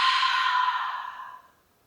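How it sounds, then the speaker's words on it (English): A single long, deep exhale through the mouth during a chair yoga breathing exercise, breathy and close, fading out smoothly after about a second and a half. "Inhale and exhale."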